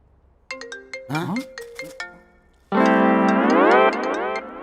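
A mobile phone rings in a comedy film scene with a loud, melodic electronic ringtone. Separate tonal notes come first, then a louder sustained run of the tune.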